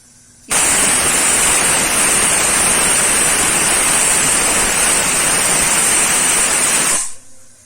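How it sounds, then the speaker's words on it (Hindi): A pressure cooker full of mutton curry lets out its whistle, a loud steady hissing blast lasting about six and a half seconds that cuts in sharply and stops abruptly. "ये हमारा पहला सीटी लग चुका है"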